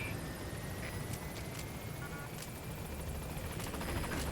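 A helicopter arrives in the video game Death Stranding, its steady loud rotor roar filling the scene throughout with a faint rhythmic chop and no talking.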